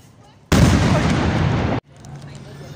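A Ramadan cannon fires at sunset prayer on Lusail Boulevard in Qatar, a single loud, broad roaring blast lasting over a second that cuts off sharply, followed by faint street ambience.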